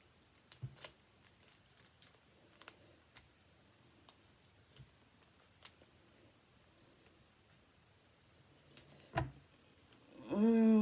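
Scissors cut paper shapes in a quiet room, giving scattered soft snips and ticks, with a louder crinkle near the end and a voice starting at the close.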